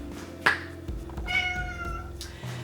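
A pet cat meows indoors, two or three separate calls with a drawn-out, tonal middle cry, fairly close and moderately loud against a quiet room hum, with no talking.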